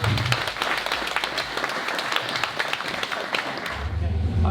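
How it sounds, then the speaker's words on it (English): Crowd applause at a Boatworks boatyard event, a dense patter of many hands clapping steadily for several seconds, with low voices and background rumble around it. "Give a big round of applause to Charmaine and the Boatworks company here"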